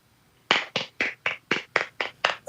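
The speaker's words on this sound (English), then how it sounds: "Is that you guys clapping until I'm better?" A small group of people claps in a steady, even rhythm, about eight crisp, close claps in a row with no talking.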